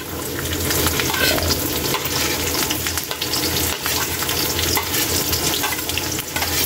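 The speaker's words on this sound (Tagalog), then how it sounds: "Ilagay na natin Kaylee yung bawang at luya" Garlic and ginger hit hot oil in a pan while pork is cooked, giving a loud, steady sizzle and crackle with light stirring throughout and no talking.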